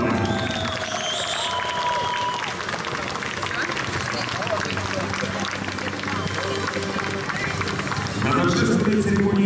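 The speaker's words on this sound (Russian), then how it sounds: "Дорогие зрители, давайте еще раз поприветствуем бурными аплодисментами участников сегодняшних соревнований." Audience applause for competitors at the opening ceremony of the Russian freestyle roller-sport championship 2023, a steady wash of clapping and crowd noise under an announcer's amplified voice and music, swelling louder near the end.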